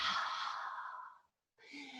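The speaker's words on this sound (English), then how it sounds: "Fire breath out." A forceful yoga breath-of-fire exhalation, a loud close breathy rush of air through the mouth lasting just over a second, a brief silence, then the start of a second strong exhale.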